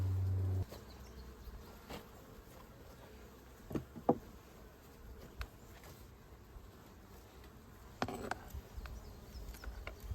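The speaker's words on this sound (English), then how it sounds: "Lots of bees." Honey bees buzz around a double nuc hive with a honey super, a soft continuous hum with individual insects passing close, punctuated by a few knocks and handling clicks.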